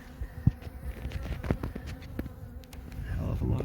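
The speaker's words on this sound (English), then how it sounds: "Hell of a lot of bees." Dense swarm of honeybees buzzing around a hive inside a tree during a beehive removal, a steady close insect drone with a few sharp knocks and bumps.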